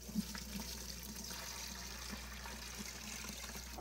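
Water and new aquarium fish are poured through a big net into a 75-gallon planted community tank, a steady splashing, gushing flow under a low hum, heard alone without talk.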